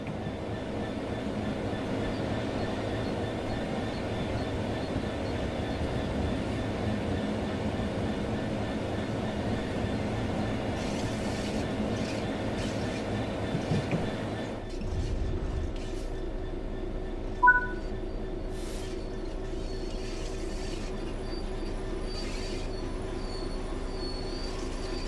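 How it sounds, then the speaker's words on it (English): A train in Train Sim World 3 braking at a training centre: a steady rolling rumble with faint metallic wheel squeal builds, then the low roar drops away abruptly near the midpoint, leaving a quieter hiss with a brief click. "Bring this train to a complete stop by holding the brake control in the apply state"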